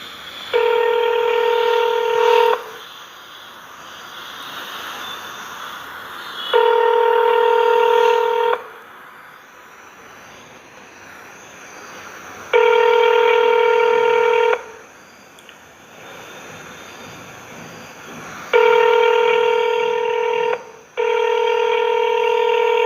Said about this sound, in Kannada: ಈಗ ಮತ್ತೆ ರಿಂಗ್ ಆಗಲಿಕ್ಕೆ ಶುರು ಆಯಿತು.